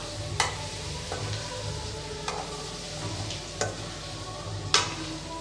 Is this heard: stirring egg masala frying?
yes